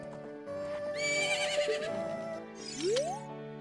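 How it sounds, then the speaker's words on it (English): A bright, synthetic horse whinny from Zelda: Ocarina of Time rises and wavers, followed by a second shorter rising neigh, loud and up close with an electronic game-like tone. "Look at this dumb little horse."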